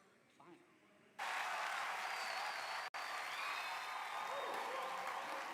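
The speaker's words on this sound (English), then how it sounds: "I think they're clapping for Jesus." A church congregation breaks into loud, sustained applause after a short quiet stretch, the clapping dense and even, dropping out for an instant midway before carrying on to the end.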